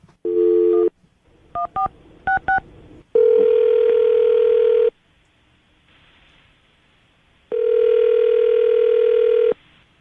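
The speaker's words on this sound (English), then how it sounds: "I'll dial her phone number right now" A telephone call goes out: a brief tone, a quick run of touch-tone dialing beeps, then two long ringback tones separated by a pause, all loud and clean with no talking.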